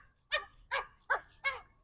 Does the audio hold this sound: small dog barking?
yes